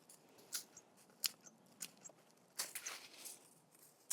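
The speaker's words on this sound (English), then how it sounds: "I just cut off all these little side limbs" Small side limbs being snipped off a plant during pruning, a scattered series of faint, close clipping snaps and rustles with a busier cluster of cuts near the end, no talk.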